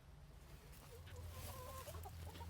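Two broody hens cluck softly inside a backyard chicken coop, a faint run of low murmuring clucks and short squawky notes over a quiet steady background hum.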